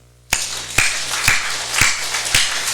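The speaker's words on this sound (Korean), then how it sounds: "우리의 어버이 박수 한번 합시다." An audience claps for their parents, five or six separate, loud, slow claps in a steady rhythm that sound like a crowd clapping together, not scattered applause.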